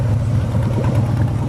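A Harley-Davidson motorcycle engine idles as it is put into reverse, a loud, close, steady low rumble with a throbbing pulse over a short moment.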